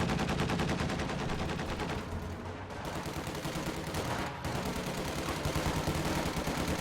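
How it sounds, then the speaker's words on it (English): Video game battle with a Maxim machine gun and an anti-aircraft half-track firing: rapid, dense automatic bursts rattle almost without pause, loud and close, with only brief gaps between long strings of shots. "The entire blob also gets suppressed by a Maxim and an AA half-track right there."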